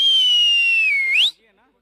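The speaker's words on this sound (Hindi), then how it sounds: "शक्ति सर सीटी बनती है अपने दोस्त के लिए।" A person whistles for a friend during a local cricket league match: one loud, close, sustained whistle on a steady note, ending in a quick upward slide before it cuts off.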